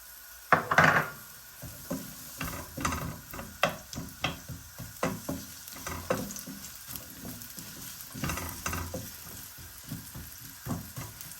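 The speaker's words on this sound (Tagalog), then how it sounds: "So, ilagay na natin yung ating sibuyas." Onions hit hot oil in a pan for pork kinamatisan, sizzling steadily up close while a utensil scrapes and stirs in repeated strokes against the pan.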